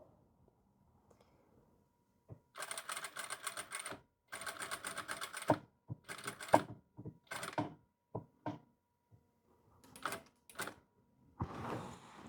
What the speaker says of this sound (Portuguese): E aqui, nós vamos costurar somente até aqui a nossa marcação.